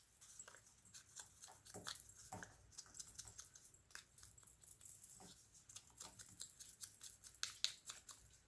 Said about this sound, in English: I'm going to cut these off here.